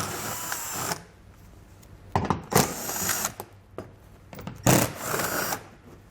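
Power tool, likely an impact driver or drill, backing 10mm bolts out of the underbody panel of a 2020 Nissan Leaf, in three separate bursts of buzzing whir: a longer opening run, then two more with quiet pauses between.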